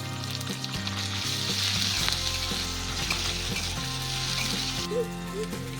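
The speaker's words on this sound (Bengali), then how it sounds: "আদাটা ভাজা হয়ে গেছে" Ginger and garlic paste frying in a pan for a snakehead fish dish, a steady bright sizzle with stirring scrapes, close and loud throughout with no talk.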